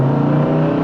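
A 1970 Dodge Dart Swinger with a 340 engine holds a loud, steady, low rumbling drone, heard close and alone for just under a second.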